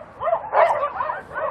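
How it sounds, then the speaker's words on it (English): Dogs on a dog meat farm let out a short burst of close barks and yips, three or four quick overlapping calls within a second and a half, loud and agitated. "as soon as they see humans, it erupts into barking"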